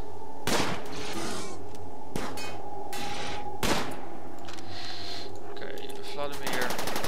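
Gunfire in the video game RimWorld (alpha 11): three or four sharp, loud shots spaced a second or more apart over a steady electronic hum, with a brief rattling burst near the end.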